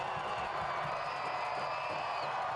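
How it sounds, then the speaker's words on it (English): A stadium crowd at a Chattanooga Red Wolves versus Charlotte Independence soccer match roars steadily after a penalty save, a dense, sustained wash of cheering with no breaks, heard from within the stands. "The crowd go crazy"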